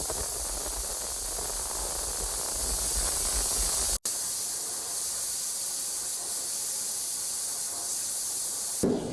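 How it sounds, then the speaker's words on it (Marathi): Pressure cooker on the stove cooking lotus stem, releasing steam in a strong continuous hiss that holds steady, breaks off briefly, then carries on alone without any voices. "तर आता आपण कुकर लावूया आणि याची एक शिटी घेऊया."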